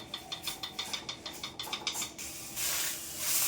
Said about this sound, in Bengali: হালকা করে সেঁকে নেব তাহলে একটু পাতাটা নরম হবে